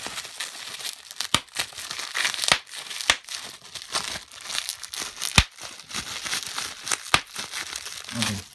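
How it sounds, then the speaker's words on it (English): Bubble wrap plastic crinkles and rustles as it is pulled and handled during unboxing, with irregular sharp crackles and a few louder snaps, close up and without speech. "we have some bubble plastic"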